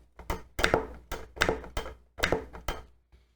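MOZA HGP sim-racing H-pattern shifter with its silencing inserts removed, shifted through the gears: a series of sharp, loud plastic-and-metal clunks and clacks, about eight distinct knocks in an irregular rhythm, close up with nothing else heard.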